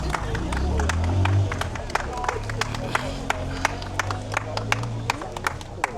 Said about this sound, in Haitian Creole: applaudis Miss Rosa